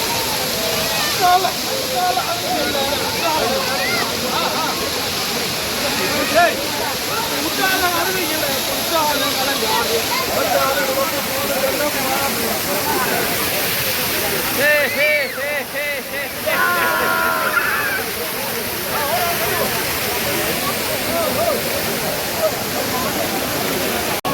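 Bathers stand under the Courtallam waterfall as water pours down in a loud, steady roar, with sloshing and splashing close by. Voices of people talking come and go beneath the continuous rush.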